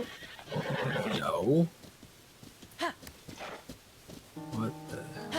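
A horse in Zelda: Tears of the Kingdom lets out a loud, close neigh, then softer hoof clops and a snort follow while someone talks briefly.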